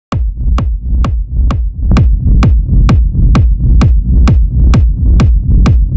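Raw techno kick drum and bass without drum bus processing or EQ, a steady four-on-the-floor pattern of about a dozen punchy, booming kicks with a low bass tail, loud and upfront with nothing else playing.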